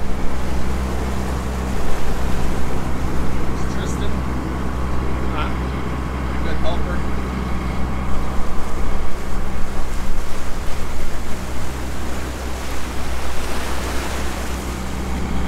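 A boat cruises on open water on an Alaska halibut fishing trip, its steady low engine drone continuous beneath wind and wave wash, with no clear breaks throughout.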